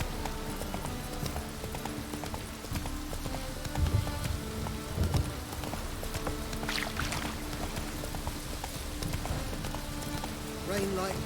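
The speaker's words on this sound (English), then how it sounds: "Rain like this." Steady rain patters throughout a stretch of The Witcher 3 gameplay, mixed with clip-clopping hooves and faint game voices, with a louder low thump around the middle.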